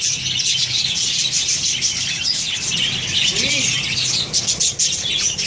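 A budgerigar breeding colony chirping constantly, a dense loud chorus of many small parrots twittering close by, with a brief lower call partway through.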